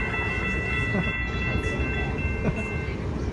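A Brightline passenger train rumbles past close by, southbound, with a steady low roar, rhythmic rail clatter, and a sustained tonal hum throughout.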